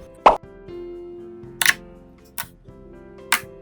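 Gold popping slime is poked by hand, giving four crisp, close pops at uneven intervals with faint squishy texture between them and no talking.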